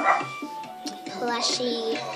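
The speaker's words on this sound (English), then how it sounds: "Sorry if you hear any barking, that's my dogs." Small dogs in a home bark and yip a few times, sharp and close, in short bursts under a person talking.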